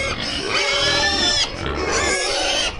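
Pigs in a pigsty squealing loudly and continuously, several shrill overlapping squeals close by, with brief breaks between bursts.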